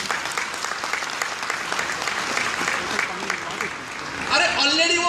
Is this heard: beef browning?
no